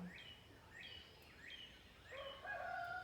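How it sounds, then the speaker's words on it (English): Faint, distant bird calls repeat several times, with a rooster-like crowing rising near the end, no voices present. "That's a rooster."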